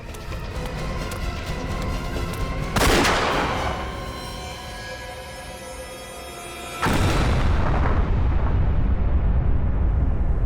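Explosions from a TV crime drama destroying a fleeing target: two heavy, loud booms a few seconds apart, each followed by a long rumbling roar over a dense dramatic backdrop.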